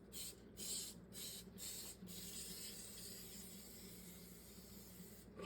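Cooking spray hissing onto two muffin pans in short repeated bursts, close and fairly quiet, followed by a longer steady spray.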